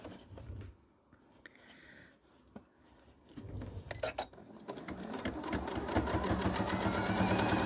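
A sewing machine stitching a quilt, first with quiet clicks and handling sounds, then running in a rapid, steady whir that grows louder toward the end, close by.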